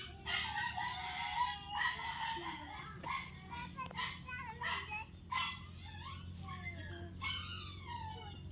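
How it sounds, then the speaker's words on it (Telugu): Chickens and guinea fowl cluck and call repeatedly around a farmyard, a steady run of overlapping bird cries with a low background hum and people talking nearby. "గిన్నె కోళ్ళు కూడా ఉన్నాయి ఇక్కడ"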